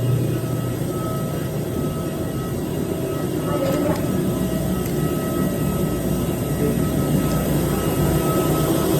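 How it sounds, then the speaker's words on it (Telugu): Steady airliner engine roar inside the cabin on a Hyderabad to Goa flight as the engines spin up before departure, a broad continuous drone with a faint high tone, loud and unbroken throughout. "మొత్తం స్టార్ట్ అయిపోతుంది ఫ్లైట్ అయితే"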